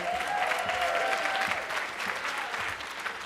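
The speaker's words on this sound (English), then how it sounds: "Let's give Dr. G a round of applause" A conference audience at a women's leadership celebration breaks into sustained applause for a guest, a soft, even wash of many hands clapping with a faint tonal line near the start.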